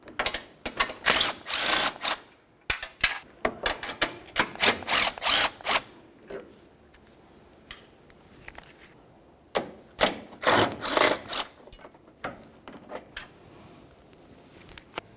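Ratcheting and clicking of a hand tool loosening 10mm bolts on the front bumper bracket of a 2003-2007 Honda Accord, in bursts of rapid clicks separated by short pauses, close and fairly loud.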